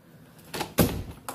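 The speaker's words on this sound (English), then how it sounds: "Here's another door." A door opened inside a house, heard as a couple of soft knocks and a fuller thud close by, then a faint later tap, with no talking.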